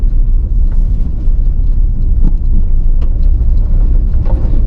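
A stock 2024 Toyota Tacoma with a four-cylinder engine drives along, heard from inside the cab as a loud, steady low rumble of engine and road noise with no voices.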